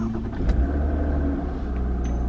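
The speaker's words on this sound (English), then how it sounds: "And let's start the car first" A car engine starting after lockdown, a close low steady rumble of the idling motor throughout, with a brief click and a faint high tone near the end, no talk.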